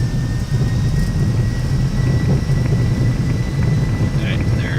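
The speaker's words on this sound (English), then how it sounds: "Got a little thrust reversers engaged." Thrust reversers roar on a Boeing 757-200 landing in the flight simulator X-Plane 11, a loud, steady low jet rumble with a faint high whine, a few small clicks near the end.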